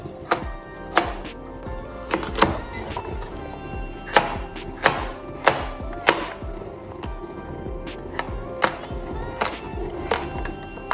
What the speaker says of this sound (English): just go ahead to chop my carrots in this chunk